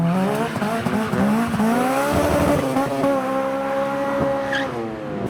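Tyres squeal in long, wavering, pitch-bending screeches from cars drifting at a crowded memorial car meet, loud and continuous with engine roar underneath and no talk.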